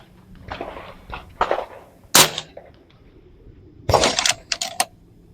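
A JTS Airstryke .22 air rifle fires with two sharp, loud cracks a couple of seconds apart, each followed by smaller clicks and rattles of handling in a quiet setting.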